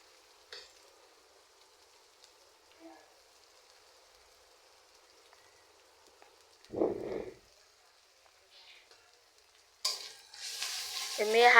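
Chili powder and turmeric are stirred and fried in a pan, giving short, soft bursts of sizzling and scraping amid long quiet gaps, growing louder toward the end.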